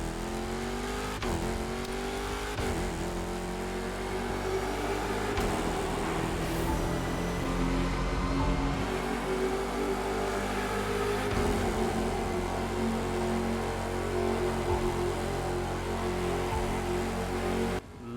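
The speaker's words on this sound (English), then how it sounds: "Let's listen to the new muscle car in this game." A muscle car with a swapped engine kit in a video game gives a loud, steady engine roar. It revs and shifts pitch throughout, heard alone with no talking.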